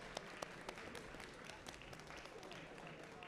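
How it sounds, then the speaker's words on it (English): Faint, distant audience applause at the Vancity Cup closing ceremonies in Vancouver, a steady patter of many hands with scattered sharper claps, continuing evenly throughout. "have another round of applause, please"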